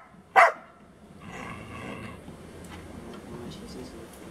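A retriever-type dog in training gives one sharp, close bark, then quieter movement and faint background sounds follow with no further barks.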